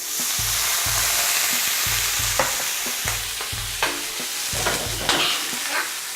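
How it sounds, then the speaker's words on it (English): A steak pan being deglazed with white wine for a peppercorn sauce gives a steady, fairly loud sizzle, with clatters and scrapes of stirring and a rhythmic low thumping running through it. "we'll deglaze the pan with the white wine"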